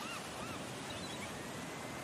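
Surf rushes steadily onto a sandy beach, a dense continuous wash of waves, with a few faint gull-like cries rising briefly above it.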